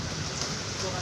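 Rain falling outside makes a steady, even patter and hiss, with a voice faintly present alongside it.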